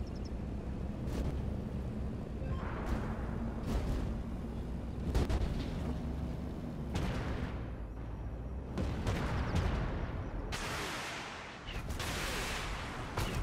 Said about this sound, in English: You'll see me use my autocannon a lot